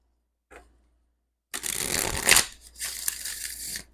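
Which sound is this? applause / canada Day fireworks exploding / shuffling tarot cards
shuffling tarot cards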